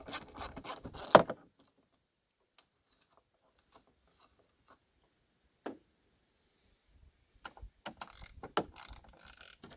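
Bolts are removed during a fan clutch replacement on a 2000 Ford Excursion with a V10, with sparse ratchet clicks and metallic taps separated by quiet pauses and a busier burst of clicking near the end.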